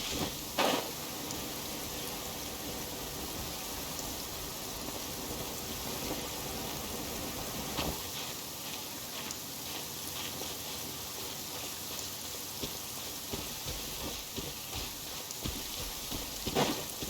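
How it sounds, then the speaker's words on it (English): Steady rain falls in Genshin Impact, a soft continuous patter with scattered louder drops, quiet and unbroken, with no voices over it. "It's raining again."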